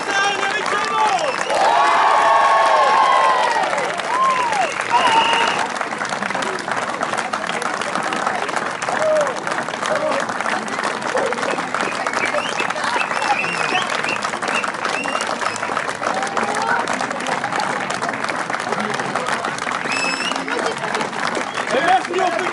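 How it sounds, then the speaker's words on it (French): An audience at a village theatre performance in Lézigné gives long, sustained applause, dense clapping with cheers, whistles and children's shouts, steady and loud throughout. "Et merci au public qui applaudit aussi nombreux pour nous soutenir."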